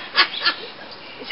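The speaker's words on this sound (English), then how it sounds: "Is that your duck?" Duck at a picnic spot, a couple of short nasal quacks close by over a steady outdoor background, no talk over them.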